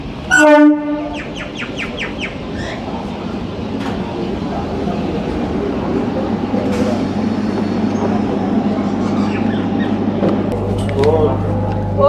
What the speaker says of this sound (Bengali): ট্রেন নবদ্বীপ ধাম স্টেশন ছেড়ে দিল